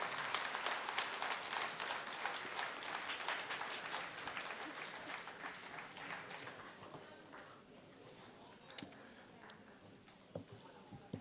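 Applause from an audience at a stage performance of Bengali poetry and song, a crowd clapping densely at first and gradually thinning into scattered claps, with a voice speaking over it.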